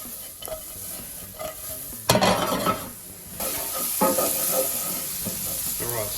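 Vegetables sizzling gently in a pan over medium heat on a Kamado Joe grill, a soft hiss broken by close scraping and stirring clatter.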